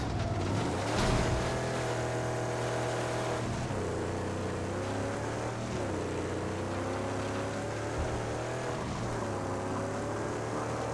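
A vehicle engine drones steadily in the video game Mad Max as a car drives across the wasteland, a continuous hum that shifts pitch with throttle changes, with faint rushing noise underneath.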